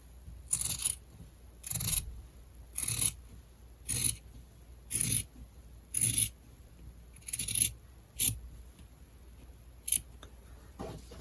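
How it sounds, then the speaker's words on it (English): Scissors cut fabric for a neck-warmer face mask, a steady run of about a dozen crisp, close snips at a regular rhythm, each with a short scrape of blades through cloth, with no talking. "Cut the top one here."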